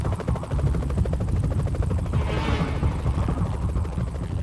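A helicopter in flight with its engine still running during a forced descent toward an airfield, a steady loud rotor thump and engine roar filling the cockpit throughout.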